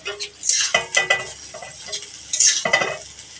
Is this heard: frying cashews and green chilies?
yes